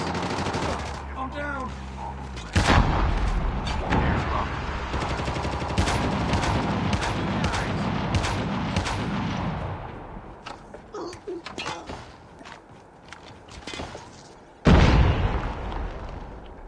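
Rapid bursts of automatic gunfire and booming explosions from a battle royale video game battle, loud and dense at first and then thinning to sporadic shots, ending with one heavy blast; a voice speaks briefly.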